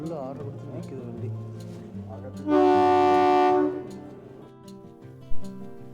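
A train on the Kalka-Shimla line, the Shivalik Deluxe Express, at a crossing point, sounding one loud, sustained horn blast of about a second over a low rumble, while people talk nearby.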